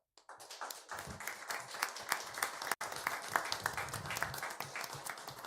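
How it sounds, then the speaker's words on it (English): An audience at a city council meeting in Sunland Park, New Mexico applauds city staff, with steady, dense clapping that runs through the whole stretch at moderate volume, briefly cut off once midway. "if you can join me with a round of applause for our city staff"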